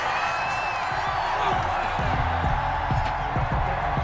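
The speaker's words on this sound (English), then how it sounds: "this crowd does not like that call" Crowd noise in a Madden NFL football game, reacting to a roughing-the-passer penalty: a continuous stadium roar with scattered thuds and whoops, and a commentator's voice faintly mixed in.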